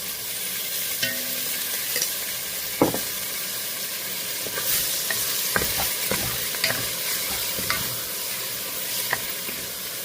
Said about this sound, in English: Now I'm going to add in a couple of tablespoons of my homemade sofrito.